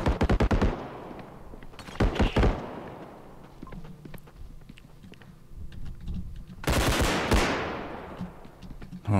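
Shotgun blasts in the video game Bodycam, with sharp loud bursts in quick clusters separated by quieter stretches of game noise and faint keyboard clicks.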